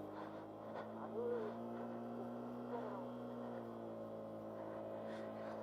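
A vehicle creeps down a steep hill road from Keokradong toward Boga Lake in first gear, its engine holding a steady, close droning whine with a slight rise and fall throughout.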